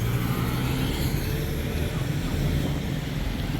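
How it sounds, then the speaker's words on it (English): Steady street traffic rumbles at a roadside bus stop in Barbado, Dominican Republic, a continuous broadband wash of passing vehicles and engine drone with no clear gaps. "So this is the bus stop in Barbado."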